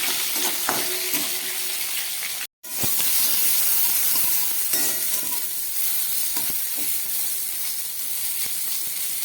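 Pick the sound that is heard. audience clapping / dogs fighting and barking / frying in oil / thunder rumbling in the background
frying in oil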